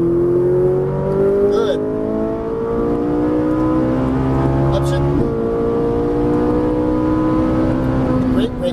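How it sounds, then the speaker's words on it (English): A Ferrari 458 Italia at full throttle on a Las Vegas driving course, its V8 rising through the revs in a loud, sustained scream with rising pitch and a brief dip at a gearshift, heard from inside the car alongside a voice giving instructions. "now accelerate hard all the way out"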